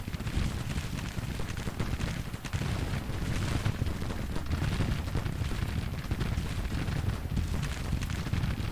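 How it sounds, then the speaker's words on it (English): Civil War artillery fire in the strategy game Grand Tactician, a dense continuous rumble of booming cannon and crackling gunfire with no breaks, loud and rolling throughout. "It says all these artillery are firing."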